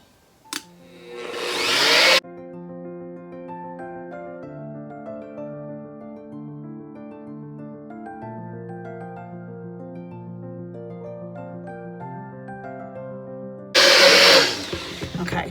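A stick blender mixes soap batter scented with an oatmeal, milk and honey fragrance that has a slight almond note. Two loud whirring bursts come at the start and end, with music playing in between.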